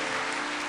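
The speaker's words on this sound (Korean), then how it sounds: "다시 한번 인사하고 들어갈 때 크게 박수해 주세요." Church congregation applauding during a Sunday worship service, a short dense wash of clapping heard on its own.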